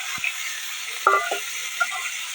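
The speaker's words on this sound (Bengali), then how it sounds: "এবার কেটে রাখা আলুগুলো আমি দিয়ে দেবো" Cut potatoes hit hot oil in a kadai tempered with cumin, giving a soft continuous sizzle with a few brief clinks and scrapes as they are stirred.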